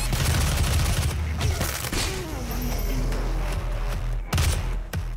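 Gunfire in the video game DOOM on PS4: loud, dense shots burst out at the start, then thin into a rumbling, low-pitched din with tonal effects, and a second burst of shots lands near the end.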